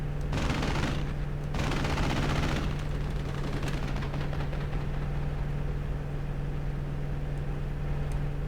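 Rapid machine-gun bursts from a fighter plane in the flight combat game Aces High 3 rattle loudly for about three seconds over a steady droning engine, then the engine hum continues alone.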